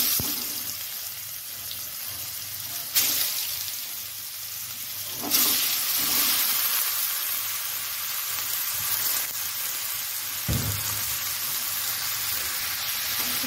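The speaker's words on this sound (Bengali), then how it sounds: "এখন আমি কাঁঠালগুলো ছেড়ে দেব" Raw jackfruit pieces frying in oil seasoned with salt and turmeric, a continuous soft sizzle with a few sharper bursts as pieces hit the hot oil, close and fairly quiet with no speech.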